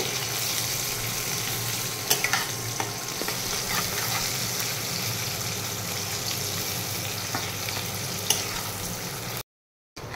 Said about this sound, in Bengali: তারপরে দিচ্ছি এখানে কেটে রাখা পেঁয়াজ, দিয়ে পেঁয়াজটাকে একটু গোল্ডেন ব্রাউন করে নেব।